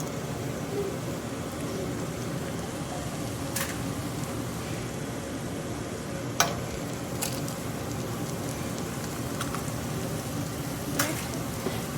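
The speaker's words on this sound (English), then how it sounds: "we're going to crack 2 eggs right there in the pan" Eggs sizzle softly in a pan alongside fried rice, a faint continuous crackle with a few sharp clicks scattered through.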